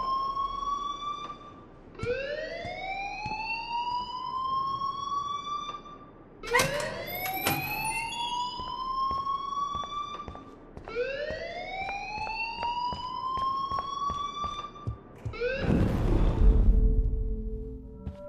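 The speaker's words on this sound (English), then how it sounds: "please turn off that alarm since that's your job" Fire alarm in the Life Is Strange video game, a loud electronic siren that sweeps upward in repeated rising whoops, about four cycles, ending in a burst of broadband noise.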